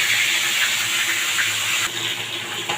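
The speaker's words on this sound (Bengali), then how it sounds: "মাছের মাথা কড়াইতে দিয়ে দিলাম।" A fish head fries in hot oil in a wok, giving a loud, steady, close sizzle with a slight dip partway through and no talk.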